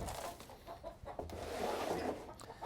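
Chickens cluck inside a dusty backyard chicken coop with nesting boxes, their calls scattered and moderately close amid rustling, with no talking.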